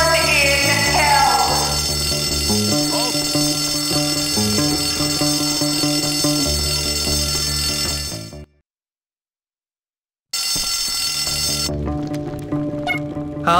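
A fire alarm rings loudly and continuously in the video game Bully, a dense, harsh tone that cuts out abruptly into nearly two seconds of silence before resuming.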